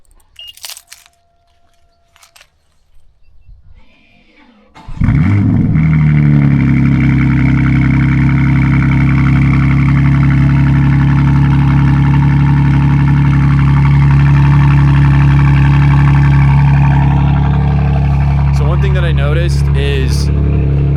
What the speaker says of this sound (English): M2CS Flash, or basically CS Flash, cold start, G80, 4-inch Miltech mid-pipe